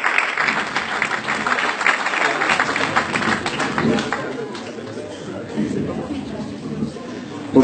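A live talent-show crowd claps and cheers loudly for a contestant called to the stage, dense applause mixed with chatter and voices that thins toward the end.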